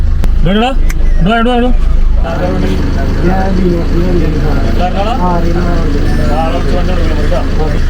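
A vehicle engine idles with a steady, low rumble that runs throughout, nearly buried under loud, overlapping conversation between several people.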